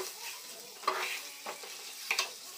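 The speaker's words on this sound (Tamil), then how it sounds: "மசாலோடு நல்லா பரட்டி எடுத்துக்குவோம்" Boiled eggs fry in masala for egg biryani, with a soft continuous sizzle and a few quick stirring scrapes and clinks of a spoon against the pan, close and fairly quiet.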